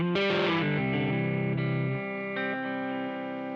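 Electric guitar played lightly through a Badcat amplifier, a chord rung out then a second strum, with a slightly driven, chorus-tinged tone ringing and decaying alone.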